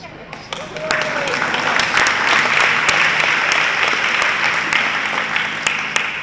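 Sustained audience applause greets a capital campaign announcement for Disability Advocates' move to a Special Olympics campus, a dense wash of clapping that swells after the first second and holds steady near the room before tapering slightly.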